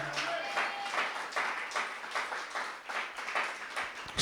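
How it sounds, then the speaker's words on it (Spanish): A church congregation claps together in a brisk, slightly uneven rhythm of repeated hand claps, moderately loud and sustained, with no other voices clearly heard. "denle un aplauso al Señor esta mañana"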